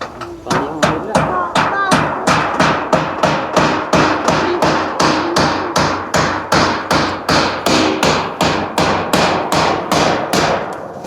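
Steady, regular hammer blows, about three per second, loud and close, with a faint voice underneath.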